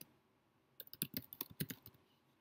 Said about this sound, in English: I'm just being lazy and typing the same things again